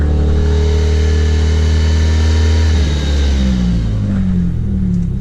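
A car engine runs steadily with the clutch down, suspected of rod knock and held around 2,000 rpm on an electronic throttle body, a close continuous drone that eases back partway through; no distinct knock stands out.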